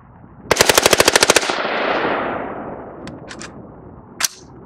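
An AR-15 rifle with a bump fire stock fires a fast burst of about a dozen shots outdoors, loud and close, followed by a long fading echo and a few faint clicks and one more sharp report.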